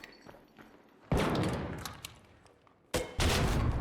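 Two heavy blasts from the Rascal grenade launcher striking a sentinel in ARC Raiders, each a sudden loud boom with a decaying tail, the first about a second in, the second near the three-second mark.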